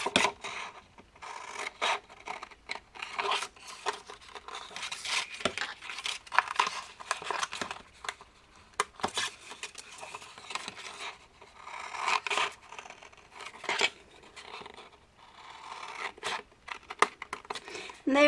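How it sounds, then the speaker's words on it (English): Scissors snipping along straight lines through a paper craft page, a series of short crisp cuts and rustles with a person talking over them at moderate volume. "so it's easy to go ahead and cut them with your scissors"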